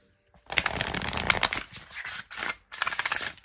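Crisp riffling bursts of an oracle card deck being shuffled, several quick bouts separated by short pauses, close and fairly loud with no voices.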